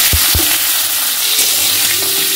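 Boneless chicken frying in a pan with ginger and garlic, a steady close sizzle broken by two sharp spoon-and-pan scrapes as it is stirred.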